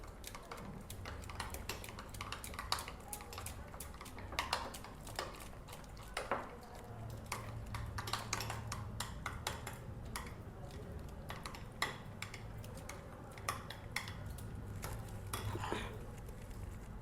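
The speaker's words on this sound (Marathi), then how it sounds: "मिक्स करून घेऊ आता आपण ही" A spoon clinks and scrapes against a bowl while thick shrikhand, sweetened hung curd, is stirred, giving repeated light taps and clatters in an irregular rhythm, fairly quiet and close, with no talking.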